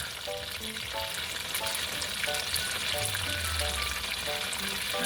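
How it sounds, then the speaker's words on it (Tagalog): Steady, dense sizzling of hot oil boiling in a pan for frying banana cue, a continuous crackle with faint occasional pops, fairly close and unbroken throughout. "kumukulo na ang mantika"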